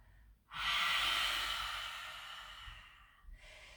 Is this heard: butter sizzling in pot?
no